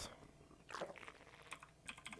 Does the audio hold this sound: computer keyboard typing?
yes